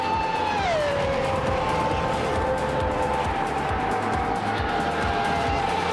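A Sauber C15 race car in a racing video game holds a steady, high engine whine throughout. The pitch drops once early on, then stays nearly level over constant track noise.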